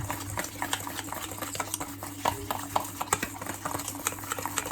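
Butter and icing sugar are mixed for a Victoria sponge in a bowl, giving a steady scraping, rhythmic stir with light knocks against the sides, close and moderate over a low background hum.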